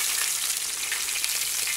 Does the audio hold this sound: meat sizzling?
yes